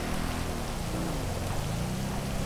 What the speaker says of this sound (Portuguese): Nossa, essa chuva aqui tá pesando um pouco,